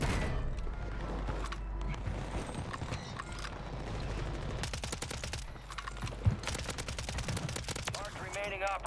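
Rapid gunfire bursts crackle in Call of Duty Warzone on Rebirth Island, with sharp repeated shots clustered in the second half over game ambience. Someone talks faintly underneath.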